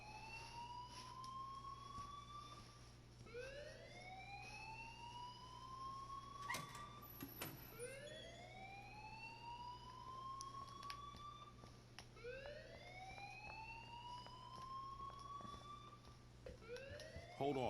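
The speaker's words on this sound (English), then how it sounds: "please turn off that alarm since that's your job" In the Life Is Strange video game, an alarm wails in repeated rising sweeps, roughly every three seconds, steady and moderately distant over a low hum, with no talk.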